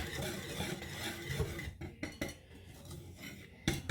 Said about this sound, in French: Puis vous allez mélanger les deux ingrédients ensemble.